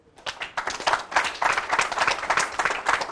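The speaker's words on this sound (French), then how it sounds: "on applaudit pour lui." A small gathering claps for a guest on a cultural program about the Vutuka religion, with scattered, fairly close hand claps forming a brisk, uneven patter of applause.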